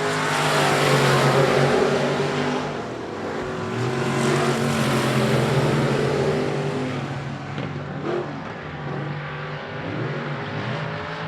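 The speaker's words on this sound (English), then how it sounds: "Going down the backstretch and into turns 3 and 4, Nathan Oakes taking control of this field." Race cars roar around a short oval speedway during a regular race program, a steady loud engine drone with rising and falling surges as the pack runs down the backstretch and through the turns.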